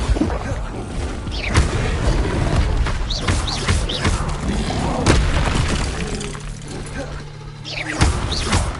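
Fiery spell blasts cast repeatedly in Hogwarts Legacy, a series of loud whooshing bursts and booms spread across the stretch, with a voice speaking between some of them.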